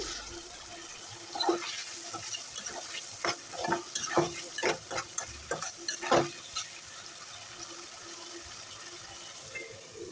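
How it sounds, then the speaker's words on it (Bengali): Potatoes fry with spices in a pan while a spoon stirs them, giving a soft, steady sizzle broken by scraping clacks and clinks in the middle of the stretch, heard close and fairly quiet. "এখন নেড়ে ছেড়ে সব মশলার সাথে মিশিয়ে নেবো"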